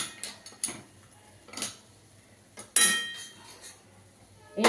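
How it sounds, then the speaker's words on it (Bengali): A metal lid goes onto a cooking pot on a switched-off gas stove, giving a few scattered clinks and scrapes followed by one louder ringing clank, all close and without talk. "এবার ঢাকা দিয়ে দেবো।"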